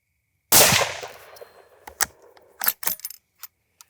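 Budget .308 rifle fires one sharp, loud shot with a ringing decay, followed by several smaller clanks and clicks from handling the bolt and gear, with no speech.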